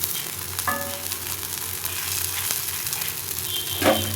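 A ragi dosa made with leftover rasam sizzles steadily on a hot pan just after being flipped, with a soft continuous crackle and a few light scrapes or clinks, no talking.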